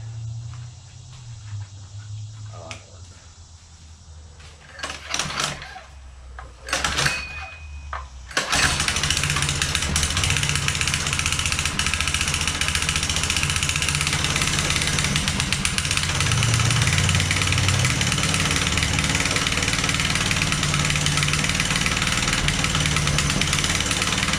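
A few faint clanks and mechanical knocks, then a Honda motorcycle engine needing work starts and settles into a loud, steady running rumble through its exhaust that continues to the end.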